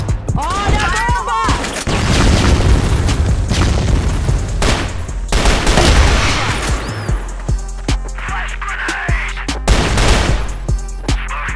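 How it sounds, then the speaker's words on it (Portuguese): Booming blasts and rapid gunfire from a video game session, loud and dense throughout with layered explosions and bursts, while players talk over the action. "Olha a bomba!"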